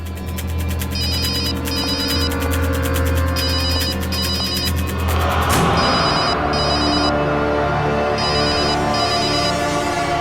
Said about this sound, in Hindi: फोन की आवाज तो यहीं कहीं से आ रही है।